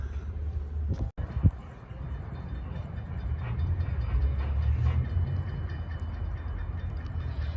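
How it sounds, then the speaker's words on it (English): An Amtrak train rolls across a railroad diamond in Dade City, Florida, producing a continuous low rumble of wheels and cars passing nearby, with a sharp bang early on and wind noise over the microphone. "Let's watch Amtrak hit the diamonds."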